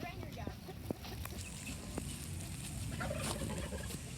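Turkeys gobbling on a farm alongside ducks and chickens, a busy chorus of gobbles and calls at moderate distance over a constant outdoor background.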